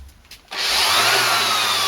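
An electric wood sander kicks on abruptly after a few quiet moments and keeps up a steady, loud whirring hiss that does not let up.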